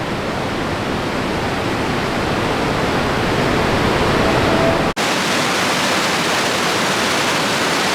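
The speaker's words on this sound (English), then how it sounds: "The waterfall is mostly underground, but there are places where you can look through and see it." Box Canyon Falls in Ouray, Colorado, a mostly underground waterfall in a deep canyon, roars steadily and loudly, a continuous rush of falling water with a brief dip partway through.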